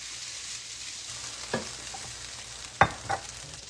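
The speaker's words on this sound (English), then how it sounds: "while your rice is still frying, you're just going to let it go for a little bit." Shrimp fried rice with eggs sizzling steadily in a hot pan, with a few sharp utensil scrapes and clinks as it is stirred, with no talking over it.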